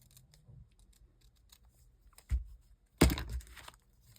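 Scissors trim paper for a handmade fall journal, with faint small snips and rustles followed by two sharper close cuts near the end, quiet overall and without talking.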